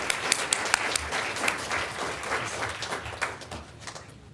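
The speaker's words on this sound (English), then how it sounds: "Please join me in giving him a round of applause." A symposium audience applauds with dense, steady clapping that starts strong and gradually thins and fades over a few seconds.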